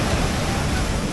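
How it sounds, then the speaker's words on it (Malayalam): Sea waves at Cherai beach make a dense, continuous roar of surf with strong wind noise buffeting the microphone, loud and close throughout. "വരുന്നു നോക്കിയേ തിര"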